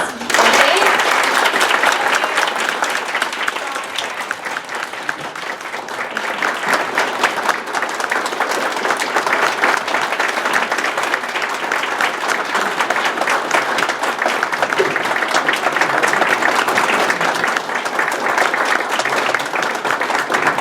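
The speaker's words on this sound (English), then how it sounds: "join me in a round of applause" Long, loud round of applause from a large audience at a community business gathering, sustained dense clapping with crowd noise throughout.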